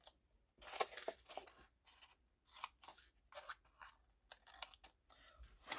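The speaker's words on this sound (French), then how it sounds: "Je coupe tous mes angles qui sont marqués du coup." Scissors snip the marked corners of paper for a handmade album, a quiet series of short, crisp cuts in irregular clusters separated by brief pauses.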